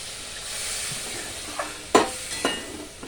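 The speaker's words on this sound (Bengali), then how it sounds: "একটু জল দিয়ে দিই" Water poured into a pan of sizzling achari chicken, a soft steady sizzle broken by a few sharp hissing bursts as the liquid hits the hot pan.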